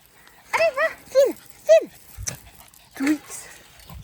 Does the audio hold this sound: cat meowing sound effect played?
no